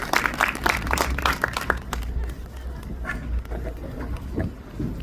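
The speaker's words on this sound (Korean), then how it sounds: "박수 부탁드리겠습니다." Audience clapping at a live talk event with an actor, a dense patter of hands that is loudest at the start and thins toward the end, with a low rumble underneath.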